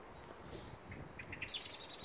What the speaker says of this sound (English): There's the blackbird.